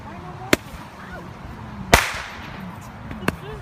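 Three sharp, crackling pops of handheld fireworks being set off outdoors, spaced about a second and a half apart over a faint background.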